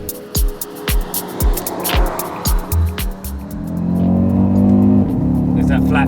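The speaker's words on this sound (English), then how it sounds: "There's that flat powertrain again. It sounds amazing" The 2024 Audi RS Q3's engine revs hard through a run of quick shifts and bursts of acceleration, then settles into a loud sustained drone, heard from close by.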